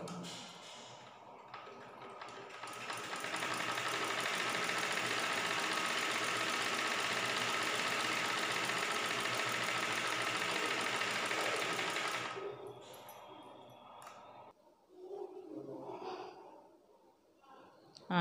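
A sewing machine runs steadily for about ten seconds while it sews a back stitch on fabric, then stops and leaves quieter handling noises.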